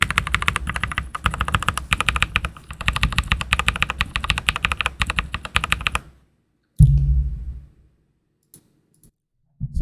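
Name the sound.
typing on lubed mechanical keyboard keys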